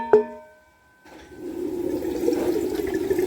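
Water from a green coconut pours into a container: after a brief tap at the start, a steady, close gurgling stream runs for a couple of seconds, with no talking over it.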